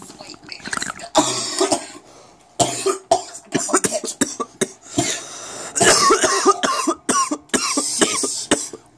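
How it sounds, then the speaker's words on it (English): Repeated harsh coughs burst out amid lively overlapping talk and laughter, loud and close. "Keep coughing."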